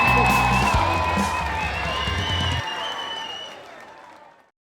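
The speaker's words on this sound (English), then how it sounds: "give a warm round of applause for the third grade Wax Museum." An audience at a third-grade wax museum school event claps in applause, mixed with ringing tones. The clapping thins out and fades to silence.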